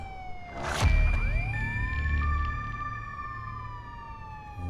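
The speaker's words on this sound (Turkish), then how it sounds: "sirenleri kapat ya" Police car siren in the Contraband Police video game, a rising electronic wail with steady tones sweeping up and holding, loud and close over a low engine rumble, with no talking.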